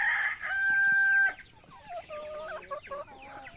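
Roosters crow outdoors, one long sustained crow followed by several shorter overlapping crows and clucks from nearby birds of an upgraded native chicken flock, loud and close with no talk.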